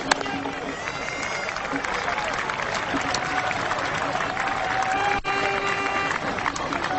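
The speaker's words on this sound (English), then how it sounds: "Appreciative crowd here in Dublin" Cricket spectators at a 1999 World Cup match in Dublin applaud steadily, a dense far-off patter of clapping with crowd murmur running beneath it for several seconds.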